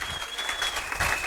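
Church congregation clapping at a Sunday worship service, a steady dense patter of hands filling the short moment without a break, with a faint voice in the background.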